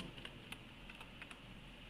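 Soft, sparse keystrokes on a computer keyboard as placeholder text is typed into an HTML form, a handful of quiet clicks spaced irregularly over a faint steady background hiss.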